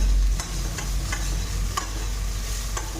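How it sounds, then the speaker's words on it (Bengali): Flattened rice being stirred in a pan with mustard seeds and curry leaves, with a low steady sizzle and a few faint scraping strokes of a spatula at irregular intervals. "ধুয়ে রাখা চিরা দিয়ে দেবো চিরাটা যেভাবে ভালো করে সরষে আর কারিপাতার সঙ্গে মিক্স করে নেব"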